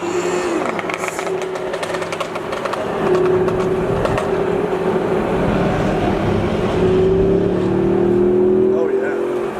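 Jaguar F-Type engine revving with a steady rising drone among a pack of supercars, held loud and close for several seconds while voices talk over it.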